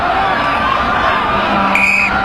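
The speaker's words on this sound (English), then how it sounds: "crowd begins to chant" A stadium crowd at a women's rugby sevens match chants and roars in a dense, continuous wash of voices, loud and steady, with a brief higher tone sounding near the end.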